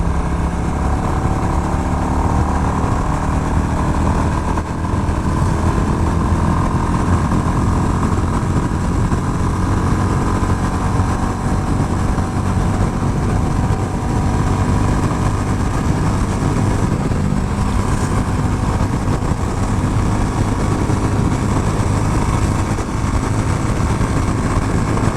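A Royal Enfield Classic 350 motorcycle engine drones loudly and continuously while riding, with a low, steady thump and wind rush and only slight changes in pitch as it slows and shifts down to fourth gear.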